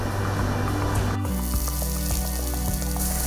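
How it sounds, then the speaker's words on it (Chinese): Pork shoulder hits hot oil in a wok with garlic, onion and homemade XO sauce, giving a loud continuous sizzle with rhythmic stirring scrapes, near and steady. "加进了猪梅花，伴着滋滋声响"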